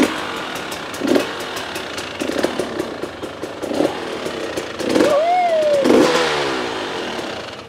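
GasGas motorcycle engine revving, with repeated short throttle blips roughly every second over a rough idle and a rising whine near the end, heard up close.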